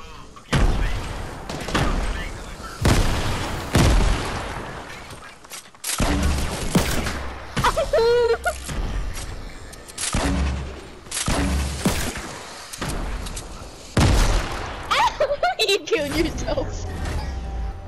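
Repeated explosive bursts and crackling gunfire from the Fortnite video game, with grenade blasts in a loud, busy battle mix; people talk and exclaim over the action throughout.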